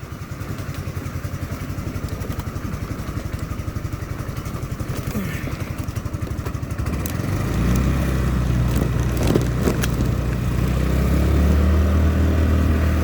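A Chinese GY6 scooter engine runs steadily with a throbbing low putter, growing louder and rougher after about seven seconds as it gets under way, with no talk over it.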